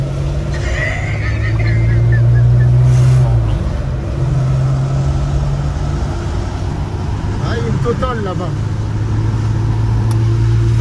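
A vehicle engine drones steadily with wind and a ventilation fan blowing, a loud constant low rumble that swells around the middle, while a person talks over it.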